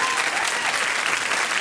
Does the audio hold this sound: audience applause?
yes